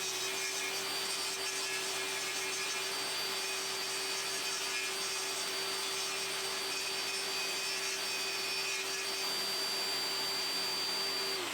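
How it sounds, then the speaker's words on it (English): A table saw blade nibbling at a wooden workpiece turned slowly to form a circle gives a continuous, loud whine with a steady motor hum and grinding texture throughout. "I could gradually advance it into the blade and slowly rotate it to nibble away and form the perfect"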